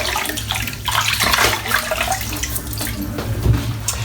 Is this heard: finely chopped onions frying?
no